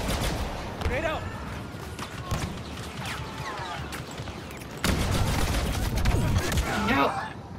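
Gunfire from a weapon in a droid battle video game comes in rapid bursts with mechanical clatter, mixed with game effects, while a player talks at times.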